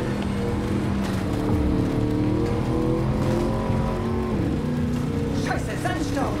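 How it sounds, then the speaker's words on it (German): A car races through the Badlands of Cyberpunk 2077, its steady engine drone rising and falling in pitch as the driver struggles for control, with a voice talking over it throughout. "ich habe die Karre kaum unter Kontrolle hier"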